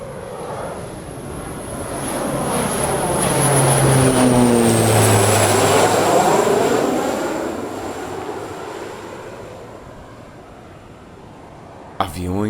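Propeller airplanes pass overhead near a Caribbean island, the engine drone rising to a loud peak and fading with a clear Doppler pitch sweep, heard alone with no talk.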